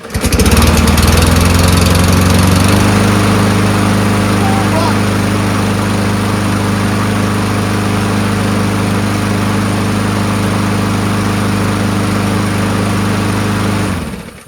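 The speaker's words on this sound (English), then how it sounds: "throws away a perfectly good running mower." A Yard Machines push mower with a 139cc Powermore engine runs close by at a loud, steady drone for the whole stretch, then cuts off right at the end.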